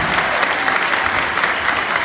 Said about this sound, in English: If we could get another round of applause